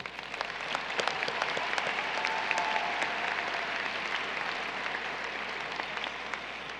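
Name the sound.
graduation audience applause for Honor Society graduates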